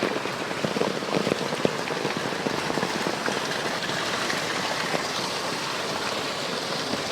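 Dense, steady heavy rain pouring down and pattering on surfaces in Chittagong, Bangladesh, continuous and close throughout.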